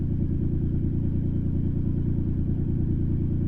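A loud sedan's engine gives off a steady, heavy low rumble that holds evenly throughout, close and unbroken, with no voices over it.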